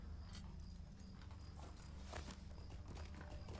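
A rented horse's hooves clip-clop in Lord of the Rings Online, a steady walking rhythm of soft hoofbeats, quiet and even throughout, with no voices.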